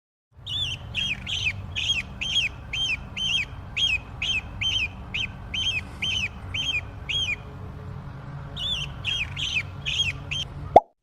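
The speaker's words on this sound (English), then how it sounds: "Eagle." An eagle calls in a long series of high, thin, chattering whistles in quick succession, with a brief gap midway, over a steady low rumble of wind or outdoor ambience.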